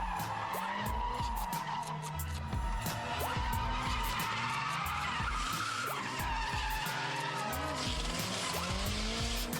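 A 500-horsepower HKS-built Nissan S15 drift car roars while its tires squeal and skid continuously, the engine note rising and falling sharply through the run, loud and close.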